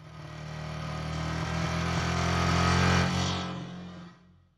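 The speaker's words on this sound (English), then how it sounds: "I would just cut to those Doppler affected sounds from the regular engine sounds" An RC car engine whines past with a Doppler shift, building steadily in loudness to a peak and then falling away as it fades out, with no voices present.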